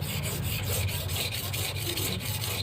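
A stone is pressed and rubbed back and forth against a hand-held whetstone, giving a rhythmic gritty rasping with regular strokes a few times per second, close up and without talk.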